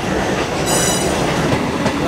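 A local train passes on the adjacent track as it pulls into Dum Dum station in Kolkata, heard from aboard the Kolkata–NJP Haldibari Superfast Express. A loud, continuous rolling clatter is briefly topped by a high wheel squeal.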